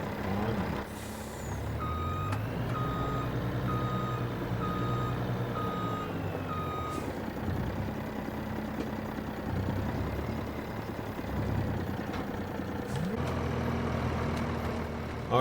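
Reversing beeps from a truck in Farming Simulator 25, a steady repeating tone over a loud, constant engine rumble, with a brief hiss like an air brake near the end.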